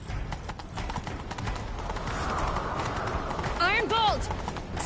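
Horse galloping in The Witcher 3, steady rapid hoofbeats close by under a noisy game background, with a whinny near the end.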